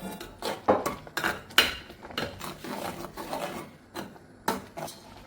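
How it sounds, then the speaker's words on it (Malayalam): Metal spoon stirring pumpkin and pineapple pachadi in a pot in a Kerala kitchen, with irregular scraping strokes and close, sharp clinks against the pot's side and no voices. "എന്നിട്ട് നല്ലവണ്ണം ഇളക്കി യോജിപ്പിക്കാം"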